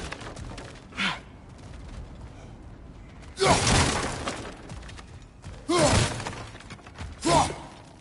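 Objects smash and shatter in the God of War Ragnarok video game, heard as three loud, broad crashing bursts with a smaller impact before them, separated by quieter game ambience.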